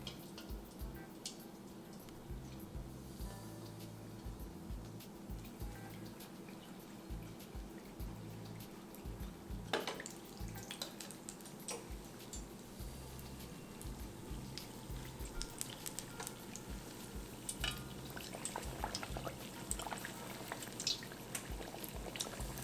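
Kofta dropped into hot oil in a home kitchen while making malai kofta, giving a steady, continuous sizzle and bubbling frying hiss with occasional crackles and small pops, no talking.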